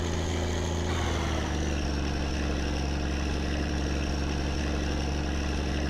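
In the video game My Summer Car, a honeywagon truck engine runs at top RPM, producing a loud, constant droning roar with a slight pitch dip early on, then holding steady without speech.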